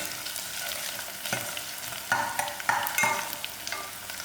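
Curry leaves fry in hot oil with a steady soft sizzle, while several sharp scrapes and stirs sound close by and no one talks.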